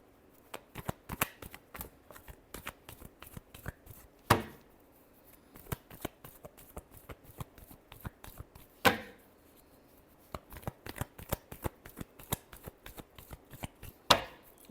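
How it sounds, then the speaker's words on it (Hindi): Tarot cards being shuffled by hand, close and dry, in repeated bursts of quick riffling clicks with louder slaps near the start, middle and end of each pass. "Last shuffle."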